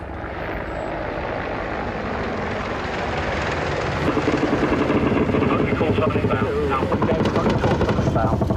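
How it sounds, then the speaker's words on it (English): An Apache attack helicopter over a combat zone in Afghanistan, a loud steady rotor and turbine roar that grows heavier with a thumping blade chop midway, no clear talk. "Mounted on the underside of the Apache is a 30 cal machine gun, which delivers 10 armored-piercing rounds every second."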